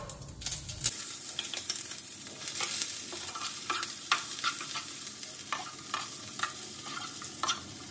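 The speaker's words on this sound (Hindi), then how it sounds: "सबसे पहले हम थोड़ा जीरा डाल लेंगे।" Cumin seeds sizzle and crackle in hot oil in a pan, a steady close-up hiss broken by small pops and stirring scrapes, with no talking.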